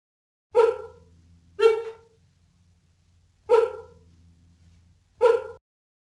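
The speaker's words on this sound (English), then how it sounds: "did you know that the sprinting cheetah has a bark like a dog?" A cheetah gives four sharp, dog-like barks, each short and loud, spaced about a second or more apart, close and clear against near silence.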